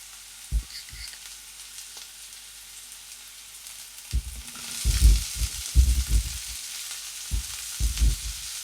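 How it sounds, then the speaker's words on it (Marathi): Masala fries in oil over medium heat for a potato gravy, a soft steady sizzle broken by a few scrapes, then a busier run of stirring strokes in the second half. "आपल्याला मीडियम गॅसवर छान हा मसाला 1-2 ते 3 मिनिट असंच भाजून घ्यायचा आहे."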